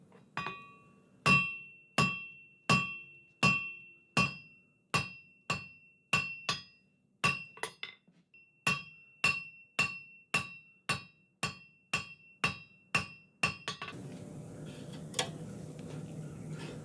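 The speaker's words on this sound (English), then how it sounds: "I'm going to forge a taper out, flatten it, and then twist it" Hammer blows ring out on hot steel being forged into a taper, about two dozen sharp metallic strikes in a steady rhythm with a brief pause midway, close and clear, ending in a noisier stretch of workshop sound.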